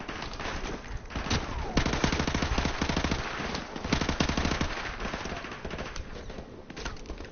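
Rapid automatic gunfire in Call of Duty Modern Warfare Remastered rattles almost continuously, loud and dense, with bursts of machine-gun fire overlapping other shots throughout.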